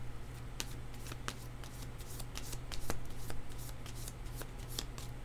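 Tarot cards shuffled by hand in a quiet room, a steady run of crisp riffling and snapping card strikes over a low constant hum, with no voices.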